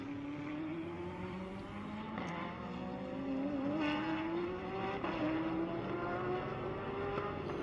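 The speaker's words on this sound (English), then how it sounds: "Hargrove gets the power down in that Porsche so effectively." A Porsche GT race car accelerates hard at Sonoma during a Blancpain GT World Challenge America race, its engine note rising steadily in pitch through a sustained, loud run with no gear change.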